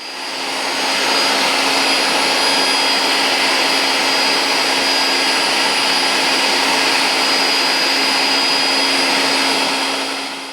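An electric sausage stuffer runs while filling homemade bratwurst, giving a loud, steady motor whine with a constant hum that ramps up at the start and holds evenly throughout, with no voices.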